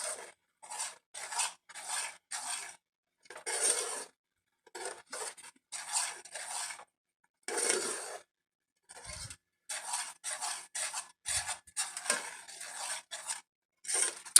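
A spoon scrapes and stirs maple apple oatmeal in a pot left on the stove eye with the heat off, making steady, repeated rasping strokes in short bursts with brief pauses between them.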